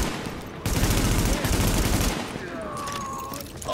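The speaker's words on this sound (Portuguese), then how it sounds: "Eu vou levar tiro na minha cara aqui" Rapid bursts of automatic gunfire crackle in The Division, a sustained volley lasting about a second and a half, then fading into quieter game ambience with a faint electronic tone.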